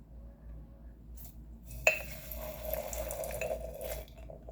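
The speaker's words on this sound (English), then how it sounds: "see if we can get a good little Czech pour on here" Pilsner Urquell lager poured from a bottle into a glass: a sudden clink at the start, then a steady close-up gurgling rush of liquid and foam for about two seconds that tapers off.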